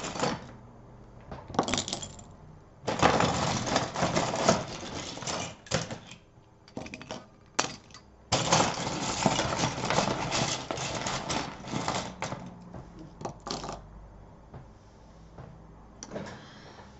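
Loose seashells being shuffled and mixed by hand for a divination reading, giving bursts of dry clattering and rattling in uneven waves with short pauses between them, close and fairly loud, with no talk.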